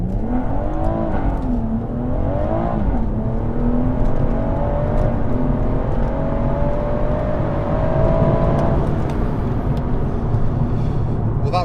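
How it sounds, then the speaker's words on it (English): Stage 1 tuned BMW M140i with the B58 engine launches hard from a standstill, its engine note climbing steadily and loudly through the revs inside the cabin, with a shift-like dip early on and continuous drone throughout. "put the foot on the brake, make sure we're completely stopped and then gun it"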